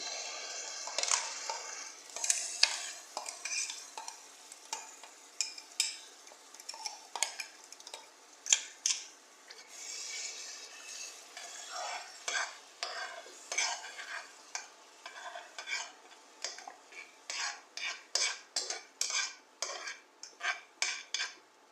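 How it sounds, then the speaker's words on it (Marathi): Masala paste being stirred and fried in a pan until reddish, with steady scraping strokes of a spoon or spatula against the metal and a soft sizzle underneath, the strokes growing quicker and more rhythmic toward the end. "आपला मसाला पेस्ट केलेला ते टाकून घेऊया आणि चांगला व्यवस्थित लालसर भाजून घेऊया"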